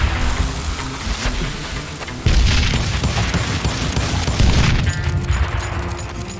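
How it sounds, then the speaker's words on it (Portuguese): A grenade blast in the Western shooter Call of Juarez: Gunslinger lands as a sudden loud boom, followed by a dense rumbling clatter of gunfire and debris that fills the rest of the moment. "Toma, granada."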